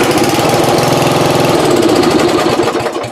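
A riding lawn mower engine, boosted by a LiPo battery at full throttle, cranks and runs with a loud, close, rapid chugging rhythm throughout the short burst, with no talking.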